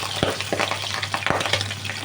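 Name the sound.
pabda fish frying in hot oil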